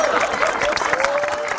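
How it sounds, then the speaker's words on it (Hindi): Audience clapping at a village gathering in Punjab, a dense steady patter mixed with crowd noise and a sustained tonal line, with voices talking over it throughout. "शेर खान इधर के लिए तालियां भाई।"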